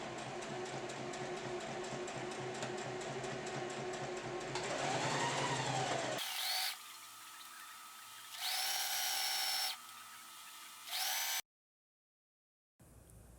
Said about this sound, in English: I'm just folding it in half like this and sewing right along the edge there for this strap